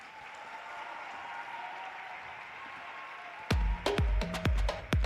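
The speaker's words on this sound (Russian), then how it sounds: "Громкие овации давайте еще раз подарим спортсменам." A hall crowd at a sequencing championship at Timiryazev Exhibition Center gives the athletes a long steady applause, joined by loud sharp tones past the midpoint.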